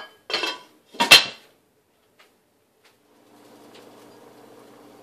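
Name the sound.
covering cooking pot with lid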